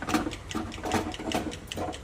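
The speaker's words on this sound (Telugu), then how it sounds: "ఇది బాగా కవ్వం కొట్టుకుంటే మెత్తగా ఆకు అనేది" A wooden churner beats cooked leafy greens in a pot, producing quick, rhythmic wet slaps and knocks in repeated bursts, close and fairly loud.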